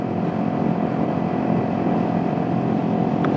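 A 2016 Kawasaki Ninja 300 motorcycle cruises at 40 mph in Buffalo, NY, with a steady engine drone mixed with rushing wind noise, close and continuous.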